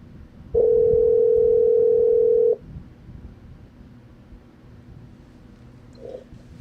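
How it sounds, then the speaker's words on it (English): A telephone dial tone sounds while a caller is being called back on a Liberian talk radio show, a single steady, loud tone lasting about two seconds, followed by quiet line hiss. "I'm calling one of the callers back."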